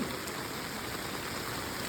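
Steady rain falls over farmland in the Konkan region, a dense, even hiss of drops that holds constant throughout with no pauses or voices.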